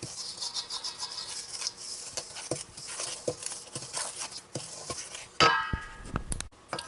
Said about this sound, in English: Stir up that really well.